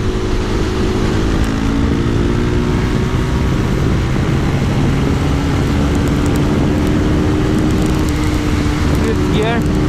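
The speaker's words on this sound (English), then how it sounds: "That's the rev limiter that's not kicking in" A modded KTM RC390 motorcycle engine drones loudly and steadily at high revs on a highway, with strong wind rush throughout and a brief rising whine near the end.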